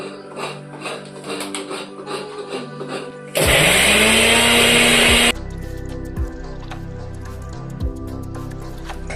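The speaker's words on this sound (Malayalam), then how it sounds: "ഒന്ന് അരച്ചെടുക്കാം." Mixer grinder grinding chicken curry masala, a loud harsh whirring burst of about two seconds with a falling motor pitch, preceded and followed by quieter kitchen clatter and faint voices.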